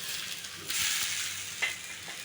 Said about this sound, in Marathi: कांदा थोडासा ब्राऊन झाला की त्यामध्येच आपल्याला टोमॅटोसुद्धा भाजून घ्यायचं आहे